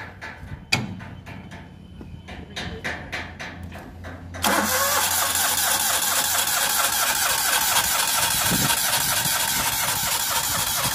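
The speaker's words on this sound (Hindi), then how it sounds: "ये Maruti Alto L x I model petrol start हो हो नहीं रही है गाड़ी" A Maruti Alto LXi petrol car engine cranks repeatedly with the starter and fails to start properly. Rapid cranking pulses are followed by a loud, steady engine roar that continues to the end, with no talking.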